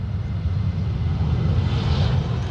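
A Ryanair airliner landing on runway 28 right at Dublin Airport, heard as a broad, steady low roar of jet engines that swells slightly, distant and continuous with no talk.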